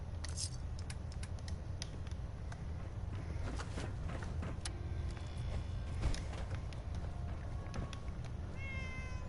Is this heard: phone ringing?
no